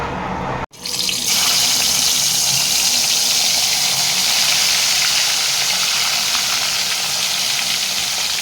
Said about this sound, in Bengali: তেলটা গরম হয়ে গেছে এবার আমি মাছগুলো ছেড়ে দেবো